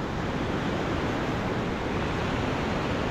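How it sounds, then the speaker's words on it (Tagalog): Rough ocean surf rolls onto a beach lined with pulled-up boats as a typhoon approaches, heard as a loud, continuous wash of breaking waves with no distinct pauses and no talk. "may bagyo daw pa parating kasi, kaya ganyan ang alon ngayon."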